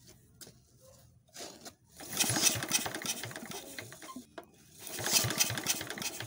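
A freshly started engine with a fuel injection pump, fed with gasoline, runs in uneven bursts, its mechanical clatter swelling loud twice after quieter rattling, close by, with no talk.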